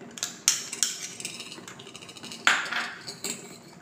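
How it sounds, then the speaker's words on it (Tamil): A spoon clinks and scrapes against a bowl while stirring a gelatin mixture for a no-bake chocolate mousse cake, with a few sharp metallic taps over a soft steady stirring sound, close up with no talking. "நல்லா ஜெலாட்டின் போட்டு நல்லா வந்து மிக்ஸ் பண்ணிகிட்டு இருக்கோம்"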